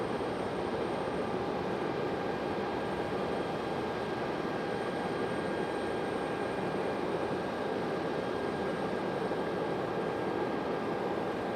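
An American Airlines A321-200 jet airliner at Raleigh-Durham airport makes a steady, broad engine roar with faint high whines, constant and fairly distant throughout.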